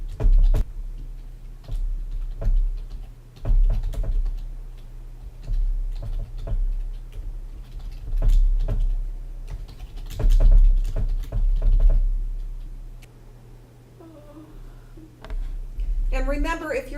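Keys clatter on a computer keyboard in uneven bursts of light, close clicks and taps, with pauses between runs and a steady low hum underneath while someone talks.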